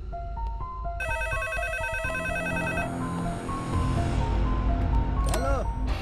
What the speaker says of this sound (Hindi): अरे कौन है जो बार बार फोन कर रहा है और बोल भी नहीं रहा है?